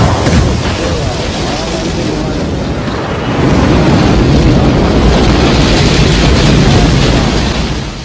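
A rocket engine ignites and the launch begins as one loud, continuous broadband roar that swells after about three seconds and holds heavy and rumbling to the end.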